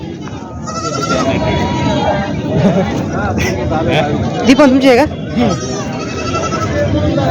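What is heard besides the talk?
goat bleating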